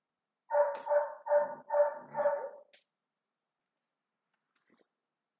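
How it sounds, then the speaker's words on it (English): A dog barks five times in a quick, steady run, fairly close and loud, followed by silence and then a brief faint click, in a quiet home room with no talk. "Hush dog."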